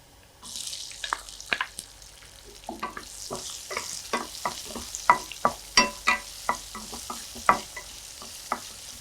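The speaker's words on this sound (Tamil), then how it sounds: "இது ஒரு 2 நிமிஷம் ஃப்ரை ஆகட்டும்." Chopped shallots and garlic fry and are stirred in a pan, giving a steady sizzle broken by repeated sharp scraping strokes of a spoon, close and fairly loud.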